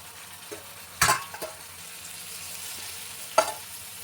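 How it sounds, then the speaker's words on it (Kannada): Five or six lengthwise-sliced tomatoes drop into a pan of frying ginger and garlic for a soya chunks biryani, giving two sharp sizzling bursts over a steady low frying crackle. "ಸೊ ನೆಕ್ಸ್ಟ್ ನಾನೀಗ ಉದ್ದುದ್ದಿಗೆ ಹೆಚ್ಕೊಂಡಿರೋ ಟೊಮೆಟೊ ಒಂದು 5-6 ಹಾಕೋತಾ ಇದ್ದೀನಿ"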